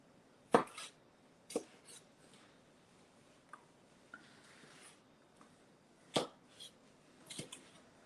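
A knife chops through a pepper on a cutting board, making a handful of sharp, close knocks spaced irregularly, with softer scraping and slicing sounds between them in a quiet kitchen.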